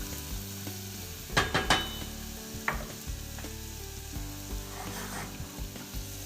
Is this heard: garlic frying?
yes